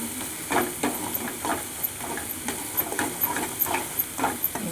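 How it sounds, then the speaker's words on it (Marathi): Food being stirred in a hot pan after red chutney is added, with steady frying sizzle and hiss and a series of soft scraping stir strokes repeating every half second or so, close and moderately loud. "चटणी टाकल्यावर असं आणि हलवायचं."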